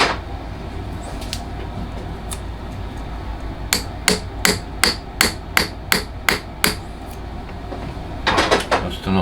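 A copper hammer taps a metal part in a small home garage, striking about ten evenly spaced, sharp, close blows over a steady low hum, with a few scattered knocks before and after.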